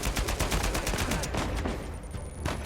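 Rapid bursts of AK-47 gunfire in the video game Uncharted 4, a loud, dense fusillade of repeated shots packed close together over a few seconds, with a final burst near the end.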